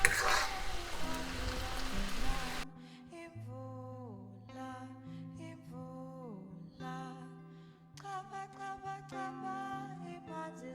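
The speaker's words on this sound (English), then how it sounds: "And we're going to continue stirring." A creamy chicken sauce stirred in a pan gives a loud, dense sizzle and scrape for under three seconds, then gives way to background music for the rest.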